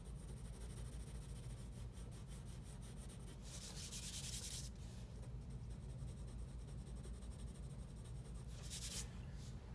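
A 7B graphite pencil shading on paper while drawing a metal spoon, a continuous close, quiet scratchy rub with rapid back-and-forth strokes and two brief, louder bursts of heavier shading.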